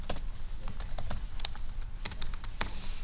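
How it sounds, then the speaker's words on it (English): Fingers type a short command on a computer keyboard in a lecture setting, a quick irregular run of close key clicks over low room noise. "I can actually type in dir and flip the direction."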